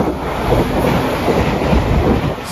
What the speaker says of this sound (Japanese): 次は8600系特急電車の通過です。